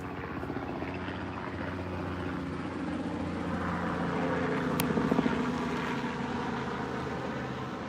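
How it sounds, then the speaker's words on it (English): A helicopter passes overhead with a steady, droning rotor thrum that holds throughout and swells slightly toward the middle, with no voices over it. "Here comes that helicopter again."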